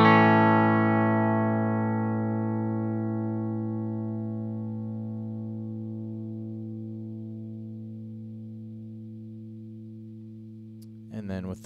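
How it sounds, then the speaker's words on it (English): A single guitar chord is strummed once with a NashPedals compressor pedal switched off, ringing out and fading slowly over about ten seconds before a short burst of handling noise at the end. "I'll start off with just strumming a chord with the pedal off"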